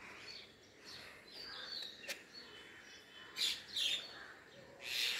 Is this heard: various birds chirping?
yes